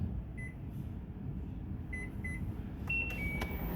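A microwave oven hums quietly as it heats a bowl of pork and egg ramen, a faint steady drone marked by a few short, high electronic beeps near the end.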